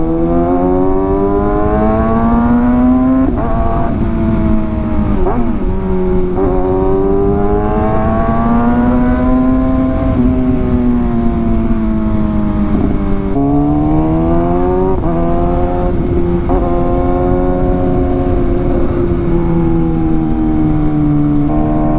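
A motorcycle engine freshly filled with Amsoil 10W40 oil revs repeatedly, loud and close, with pitch rising and falling in steady waves across the whole stretch and no talking.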